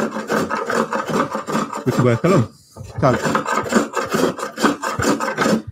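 Veritas flat-sole spokeshave shaving a bandsaw-cut wood edge in repeated rasping strokes, about a dozen short scrapes in steady rhythm with a brief pause midway, as someone speaks briefly.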